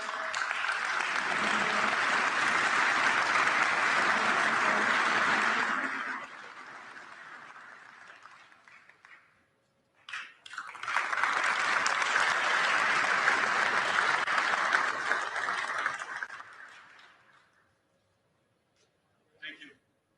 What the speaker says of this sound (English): Big round of applause to Pierluigi Collina, please.